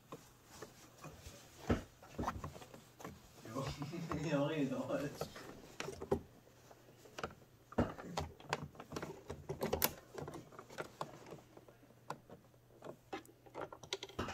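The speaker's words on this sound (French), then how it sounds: "je vais me placer sous la machine pour pouvoir coudre juste au bord ici en piqûre nervure" Home sewing machine stitching right along the edge of a lined zipped fabric pouch, irregular bursts of mechanical ticking and clatter with pauses, fairly quiet and close, with a voice talking over part of it.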